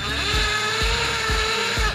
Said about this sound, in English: with the drill or a screwdriver you can screw them in there